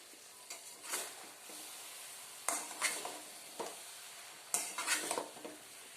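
A spoon stirring a thick Kerala-style soya chunks curry masala in a pan, three separate bursts of scraping with a light sizzle between them, no talking.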